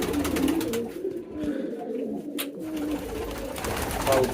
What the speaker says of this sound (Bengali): এটা তো বড় কবুতর